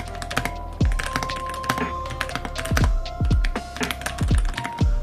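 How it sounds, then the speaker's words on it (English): Keys clatter on a Machenike K600 Lite mechanical keyboard, a fast uneven run of close, sharp clicks with heavier thocky strikes mixed in. "Let's just do a quick sound test."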